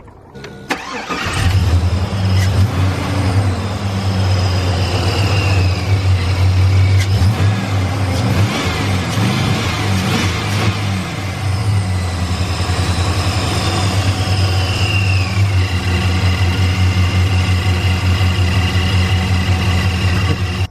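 A supercharged 2002 GMC Sierra Denali Quadrasteer pickup, boosted to about 400 horsepower, cranks and fires up, then settles into a loud, steady idle with a deep rumbling drone that holds close by for the rest of the clip.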